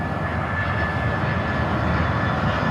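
An Airbus A400M turboprop military transport climbs out after takeoff from a runway, a steady broad engine roar, loud and unbroken, with no voices over it.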